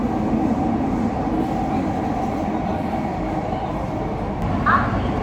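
A Mumbai metro train running, its deep steady rumble and rattle filling the carriage from inside, with a brief higher squeal near the end.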